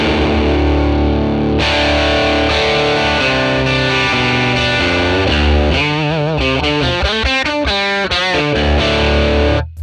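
Electric guitar played through a 1957 Tweed Bassman ToneX tone model, crunchy and distorted, with sustained chords giving way to quicker bent and picked notes, loud and continuous.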